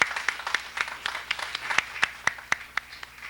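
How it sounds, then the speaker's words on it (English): Audience applause at the reopening of a university hall, a dense patter of many hands clapping steadily with sharp individual claps standing out, no talk. "So if you would give them a round of applause, please."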